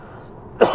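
A single short, loud cough or throat clear near the end after quiet, a lingering COVID aftereffect.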